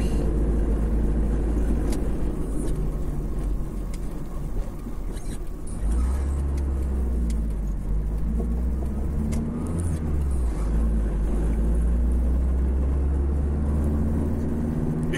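A car drives up a street in Chapecó, its engine producing a steady, close rumble and road whir that continues throughout with no talk.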